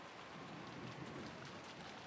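Steady, dense rain from the game Umineko no Naku Koro ni, a continuous hiss of drops on surfaces with a soft low rumble beneath, constant and even throughout with no voices.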